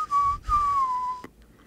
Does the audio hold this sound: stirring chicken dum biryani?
no